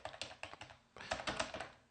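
Keys clatter in irregular bursts of keystrokes on a computer keyboard, close and fairly quiet, with a brief pause midway before a denser run of typing.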